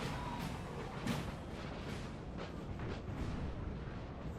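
Continuous distant artillery barrage in Napoleonic Total War 3, a dense rumbling wash of cannon booms striking marching troops, with a few louder thuds standing out from the steady roar.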